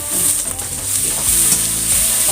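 Bitter melon shoots stir-fry in a pan with a loud, close, continuous sizzle and hiss, and faint low scraping runs under it with no voices.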